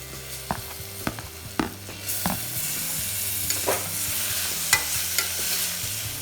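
Tomatoes being stirred into half-cooked chicken biryani masala as it fries, with continuous sizzling and repeated spoon scrapes against the pot, close and without talk.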